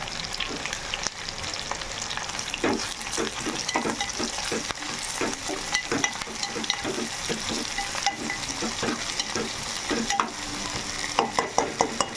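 Onion and coriander frying in a pan for a Telugu-style prawn and potato curry, with steady sizzling throughout and a run of rhythmic scraping stir strokes near and clear, a few sharper utensil knocks toward the end.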